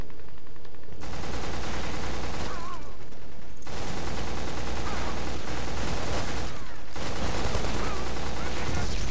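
Sustained gunfire from the PlayStation 2 shooter game Black, dense automatic bursts and heavy shots filling nearly the whole stretch, loud and continuous with a few brief lulls.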